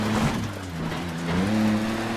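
Four-cylinder Suzuki rally car engine in the Dirt 3 racing game, a steady loud drone that swells and dips slightly as the revs shift, with no talking.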